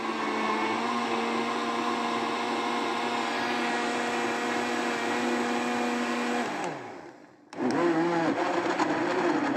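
A blender whirs steadily on cantaloupe and honey for ice cream, then winds down to a brief stop before starting again with a loud whine, close and uninterrupted by voices.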